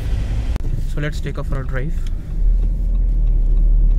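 A 2021 Jeep Compass, top-model manual variant, pulls away on a drive: a steady low engine rumble that swells and deepens past the midpoint, with a voice speaking briefly over it early on.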